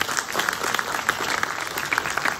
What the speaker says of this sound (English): Round of applause for Robin King.